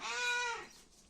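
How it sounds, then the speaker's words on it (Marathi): A household cat meows once, a single drawn-out, close and fairly loud cry that falls off and fades into quiet room tone. "मांजर ओरडते बघ"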